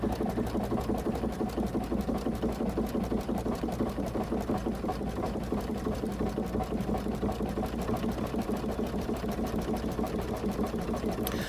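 A Baby Lock sewing machine stitching a satin stitch, a steady rapid mechanical chatter of the needle at an even rhythm, close and continuous with no talking over it.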